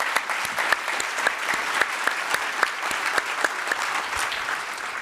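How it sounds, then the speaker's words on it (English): An audience at a Cleveland talk event breaks into sustained applause, dense steady clapping from many hands with sharper individual claps standing out, continuing for several seconds. "I think we need to give ourselves a round of applause for that."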